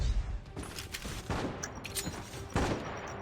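Grenade explosion in the mobile shooter game Call of Duty Mobile, a burst of loud booming blasts with sharp gunfire cracks scattered over a few seconds.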